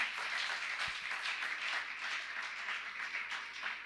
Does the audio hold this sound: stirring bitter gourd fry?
no